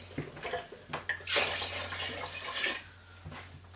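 Water splashing and sloshing as a container is rinsed out in a kitchen while making homemade tomato soup, with irregular close bursts of pouring and swishing over a steady low hum.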